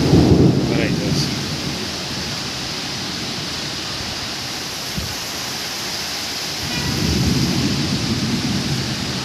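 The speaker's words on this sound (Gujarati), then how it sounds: "બહુ જોરદાર વરસાદ આવે" Heavy rain in Pune pours down steadily as a broad, continuous roar, with deep rumbles of thunder swelling near the start and again toward the end.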